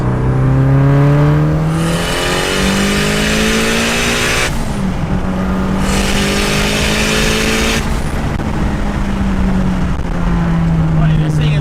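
Turbocharged car pulling hard in third gear from about 3,000 RPM under boost, a loud continuous engine note rising steadily in pitch through the run and briefly dipping at gear changes, with a voice talking over it.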